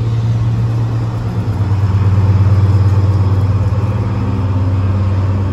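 Diesel train locomotive 7803 creeping up to a red signal at platform 4 of Oxford station, a steady loud low engine drone with a throbbing rumble running throughout, no voices.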